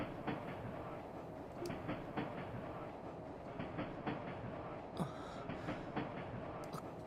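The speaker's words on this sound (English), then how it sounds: "And now suddenly we're on a train" Continuous rumble and rhythmic clickety-clack of a train ride in the Trails from Zero video game, steady and close, with occasional higher metallic squeaks and clanks over the running noise.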